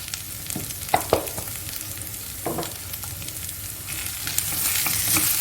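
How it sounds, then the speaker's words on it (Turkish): Rice fries in a pan with a soft, continuous sizzle and occasional stirring scrapes and knocks, heard close up without any speech. "Pirinçler saydamlaşana kadar kavuracağım"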